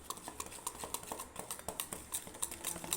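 A spoon stirs a biscuit mixture in a bowl, making a quick, steady train of faint clicking taps close by for a few seconds, with no talking.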